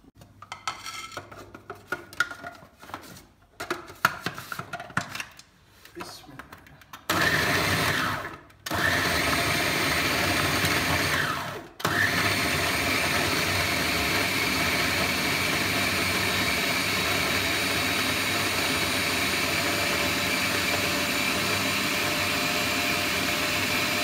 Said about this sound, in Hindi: तो अब ये मैं सारे मसाले को ग्राइंडर में डाल के ये चॉप करूंगी।